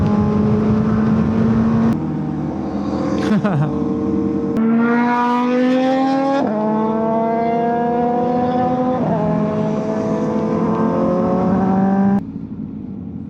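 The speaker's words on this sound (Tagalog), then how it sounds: "hindi na ako magpapatay ng motor" A motorcycle engine runs loud and close during a group ride, its drone rising and falling as the revs change through shifts, then dropping off near the end.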